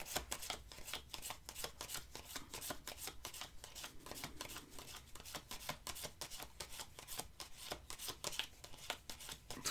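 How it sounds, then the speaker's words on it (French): Oracle cards from The Singular Magick Oracle deck are counted off one by one by hand, giving a fast, steady run of crisp card flicks and snaps, close and fairly quiet, with no talking. "Je vais compter les cartes."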